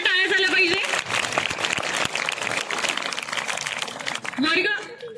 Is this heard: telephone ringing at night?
no